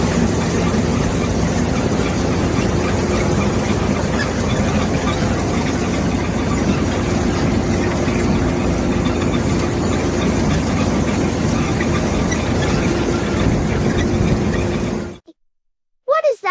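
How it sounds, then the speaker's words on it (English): Engine of a large mechanical tomato harvester working a field, a loud, steady, dense mechanical drone with a low hum that runs unbroken and then cuts off abruptly. "They use a large mechanical tomato harvester that gently separates the ripe red tomatoes from the vines"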